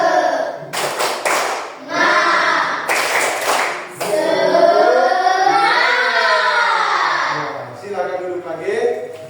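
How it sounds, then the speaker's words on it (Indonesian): A classroom of students does a rhythmic spirit clap (tepuk semangat) as an ice-breaker. Short bursts of group clapping alternate with loud group chanting or singing that fills the rest of the clip. "Tepuk semangat ya. Tepuk semangat."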